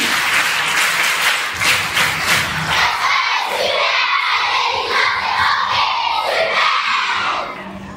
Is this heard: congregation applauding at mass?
yes